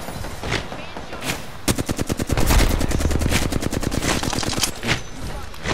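Rapid video game gunfire rattles out in a fast automatic burst of evenly spaced shots that runs for several seconds, loud and close, preceded and followed by a few scattered single shots.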